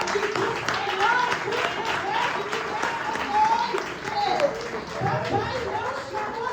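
A church congregation claps through a worship service, a dense, steady patter of many hands that fills the space while voices and a preacher's speech carry over it and children chatter in the background.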